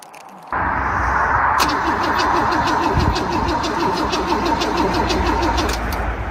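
A Holden VC Commodore pulled from a wrecking yard cranks on the ignition key, the starter motor churning in a loud, rapid, steady rhythm that goes on for several seconds without the engine catching.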